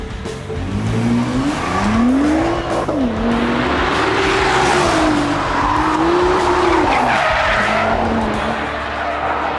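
A race car skids on a circuit, its tires squealing loudly in a long wavering screech over steady engine roar, the squeal rising and falling for several seconds with no talking.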